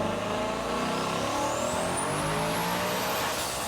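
Twin-turbo S650 Mustang GT V8 revving hard on a dyno, a loud sustained roar with rising pitch and a high turbo whine climbing over it, heard alone without talk.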